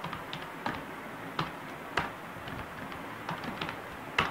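Fingers typing on a computer keyboard, a sparse run of light, separate key clicks at an uneven pace, close and quiet with a steady room hiss underneath.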